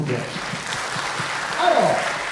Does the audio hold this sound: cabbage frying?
no